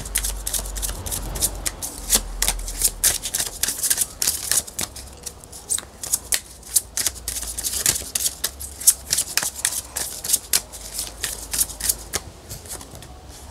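Tarot cards riffled and shuffled by hand in a quiet room, a long run of quick crisp flicks and soft slaps repeating steadily throughout, close and moderately loud with no talking.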